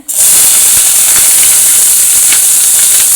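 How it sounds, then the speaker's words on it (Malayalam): Onion, garlic and ginger drop into hot oil with frying okra, setting off a loud, sudden hiss that holds as a dense, steady sizzle close up, with no one talking over it. "അപ്പം ഉള്ളി, വെല്ലുള്ളി, വെളുത്തുള്ളി, ഇഞ്ചി ഇതെല്ലാം കൂടി ഇടുവാണ്."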